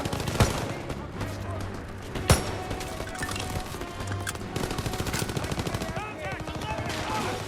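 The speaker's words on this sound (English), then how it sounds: "3 shot കൊടുക്കേണ്ടി വരും like ഒരാളെ കൊല്ലണമെങ്കിൽ" Rapid gunfire from a World War II battle in Call of Duty WW2, with dense bursts of automatic fire and sharp single shots filling the scene, while someone talks over it.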